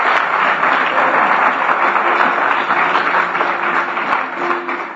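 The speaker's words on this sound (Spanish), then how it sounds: "Ese aplauso es para Dios" A church congregation gives sustained applause, loud, dense and near, holding steady before easing slightly toward the end.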